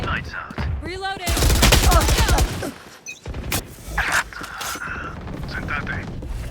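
Rapid automatic gunfire bursts and mechanical weapon reload clicks from the Valorant video game, loud and close, with brief game voice lines mixed in.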